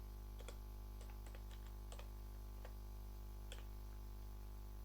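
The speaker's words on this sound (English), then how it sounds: "Now let's type the git push." A git push command is typed on a computer keyboard as a handful of soft, separate key clicks spaced irregularly, quiet against a steady low electrical hum, with no talking.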